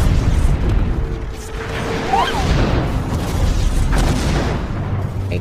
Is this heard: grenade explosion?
yes